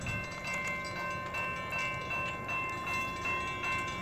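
A CSX eastbound train approaches with a steady, continuous rumble and a faint metallic ringing tone over it, holding at an even loudness for the whole stretch with no voices.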